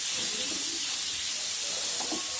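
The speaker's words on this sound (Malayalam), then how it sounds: "ഉള്ളി തക്കാളി ഇട്ടിട്ട് തക്കാളിയുടെ ഒരു പേസ്റ്റ് ആവുന്ന വരെ ഒന്ന് വഴറ്റി കൊടുക്കണം" Onion and tomato sautéing in a pan for a palak dal curry, giving a steady, close sizzling hiss that holds evenly throughout with no clear breaks.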